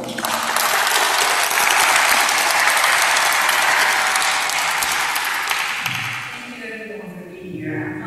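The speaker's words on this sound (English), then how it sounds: "Big round of applause for her." Loud, dense applause from a large crowd fills the room, holding steady before tapering off toward the end.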